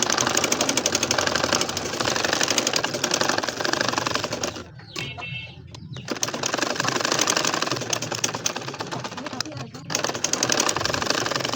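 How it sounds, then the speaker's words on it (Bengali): Electric sewing machine stitching a nakshi kantha design on cloth, a fast steady mechanical whir and needle chatter that pauses twice briefly, close and fairly loud, while someone talks over it. "একবার বাম পাশে একবার ডান পাশে সেলাই করলে সেলাইটা একটু দ্রুত করা যায়"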